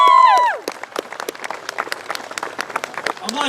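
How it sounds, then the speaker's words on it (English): Outdoor airshow crowd applauding a Royal Marines unarmed combat demonstration, scattered claps continuing steadily at moderate distance after a brief shout fades at the start. "Okay, big round of applause again then!"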